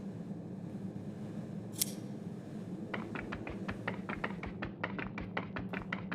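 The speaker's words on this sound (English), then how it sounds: "Armed with his scissors and guided by his kind heart, Prieto decided to cut the strings that held the clown captive." Scissors snip puppet strings in the video game Onirike, a rapid series of crisp metallic clicks that grows denser toward the end, over a low steady game ambience with one sharp chime early on.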